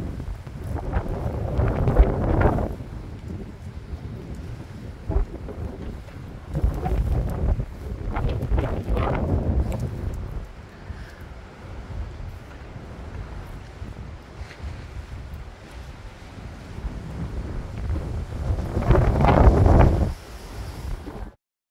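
Strong gusts during storm Jocelyn roar against the microphone in surging waves, building loud around the start, middle and near the end, easing between, with no voices.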